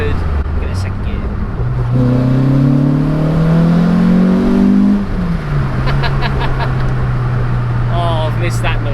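A naturally aspirated Renault Clio 172 fitted with an induction kit revs hard through second gear, its throaty engine note climbing steadily, dropping at the shift, then pulling again, loud and close from inside the car.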